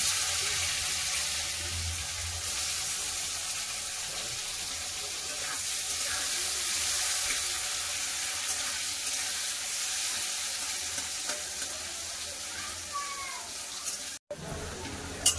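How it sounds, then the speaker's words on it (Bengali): Potatoes fry in hot oil in a wok, producing a steady, rushing hiss of sputtering oil that carries on evenly for the whole stretch, fairly close and unbroken. "এবার আমি আলু ভাজার জন্য আলুগুলো দিয়ে দিলাম কড়াতে।"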